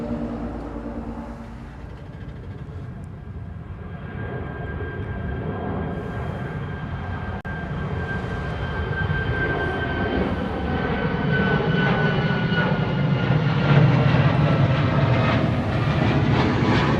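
An Alaska Airlines airliner landing at Honolulu airport, a sustained jet engine roar with a thin whine that swells slowly and grows louder, heard from a distance across the airfield, with no talking.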